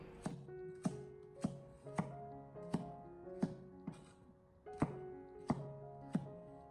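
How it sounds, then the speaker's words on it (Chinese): A knife dices potatoes on a cutting board, landing about a dozen sharp, evenly spaced chops with a solid thunk, close and clear with no talking. "我们将土豆全部改刀切成小丁以后，接着给它装在盘子里面备用"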